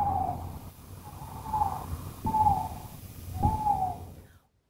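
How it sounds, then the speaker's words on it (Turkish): An owl hooting in a forest setting, four drawn-out, moderately loud hoots at an even pace over a soft breathy background, ending abruptly. "Evet, bir baykuş."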